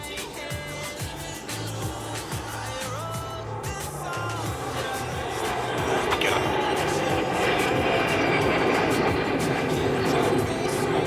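Jet engines of formation aerobatic aircraft at maximum thrust roar and build steadily louder, a broad rushing howl that swells toward the end with no talking.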